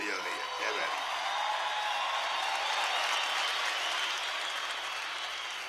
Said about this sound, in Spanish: darle un aplauso grande a todos los artistas que pasaron